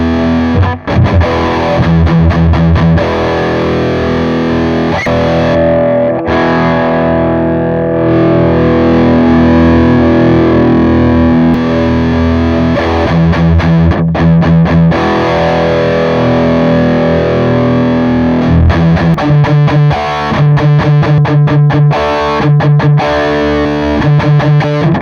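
An electric guitar plays through a Yerasov British Citrus BC-5 preamp with heavy distortion, thick, fuzzy sustained chords and riffs that stay loud and continuous, no voices.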